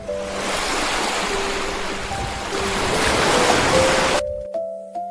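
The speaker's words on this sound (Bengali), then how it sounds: "ঢেউয়ের সাথে নৌকা ভাসে।" Ocean waves washing steadily around a floating boat, a loud, continuous roar of surf and wind with a faint tonal melody running underneath, ending abruptly near the close.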